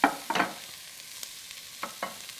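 Lamb and bacon going back into a stew pot with garlic, a soft sizzle under a few scraping stirs at the start, then quieter frying with occasional light clicks.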